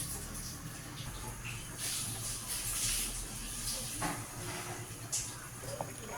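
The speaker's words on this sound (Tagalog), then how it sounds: "Ayan na po siya, kumukulo na." Steady hissing and bubbling of water at a rolling boil in a pot for fish and shrimp soup, fairly close, with a few faint clinks over the churn.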